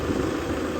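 Kubota tractor with a front loader, its engine idling in a steady low rumble with an even vibration, close by, no talking, over a brief moment.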